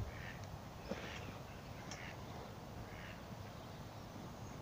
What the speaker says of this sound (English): With ducks.